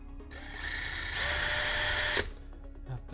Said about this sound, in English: So let's go ahead and drill those holes.